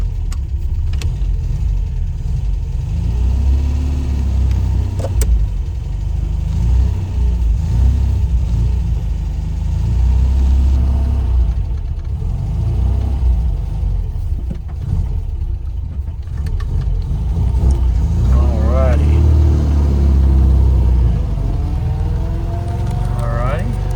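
A 1967 MGB GT runs in overdrive on a mountain road in western North Carolina. Its mid-pitched engine drones steadily beneath road noise, and someone talks over it throughout.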